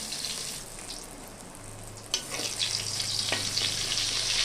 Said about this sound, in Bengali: কড়াইতে তেল গরম হয়ে গেছে, দিয়ে দিলাম লবণ হলুদ মাখিয়ে রাখা বেগুন। ভালো করে আমি ভেজে নেব।